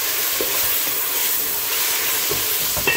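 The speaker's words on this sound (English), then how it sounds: "that's our onion back into the pan. Give it a good stir." Chopped onion sizzles steadily in hot oil in a pan for Moroccan tfaya, with a constant frying hiss and a few soft scrapes of stirring, close and fairly loud throughout.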